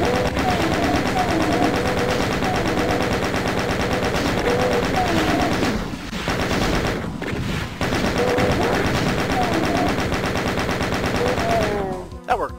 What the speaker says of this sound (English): I think I'll go with the chain gun.